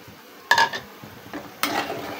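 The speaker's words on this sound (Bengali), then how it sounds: "এখন আমি দিয়ে দিব বিচিটা।" Bean seeds are tipped into a pan of frying potatoes and dried fish, giving two brief bursts of stirring and sizzle with a spoon scraping the pan, close by.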